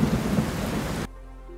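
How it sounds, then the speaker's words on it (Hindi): Heavy nighttime rain pours as a dense, loud roar with a low rumble of thunder beneath, then cuts off abruptly partway through. "और उस रात बारिश हुई जैसे पहले कभी नहीं हुई थी।"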